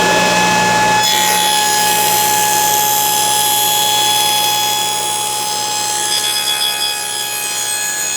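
A power saw cuts through wood to form a box joint notch for a cabinet, a loud, steady whine that holds for about seven seconds after a brief quieter start.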